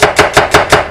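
A knife slices a white onion thinly against a cutting board, five crisp, evenly spaced cuts in quick succession, close and clear with no talking.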